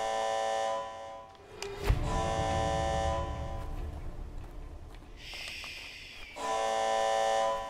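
Electronic beeping in the video game Die Young: steady tonal alerts sound loudly, pause for a noisy stretch with a sharp bang, then return as a higher-pitched beep and a final steady tone.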